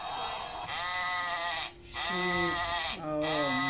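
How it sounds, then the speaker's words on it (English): A sheep bleats loudly and close, two long wavering calls separated by a short pause, over a constant background hum. "Sheep."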